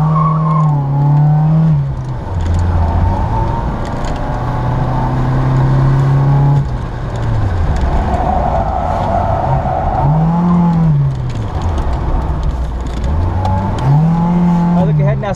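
A car on an autocross course at the Harrisburg Farm Show, its engine loud and close as it revs up and drops back again and again, the pitch swooping with each throttle application and lift.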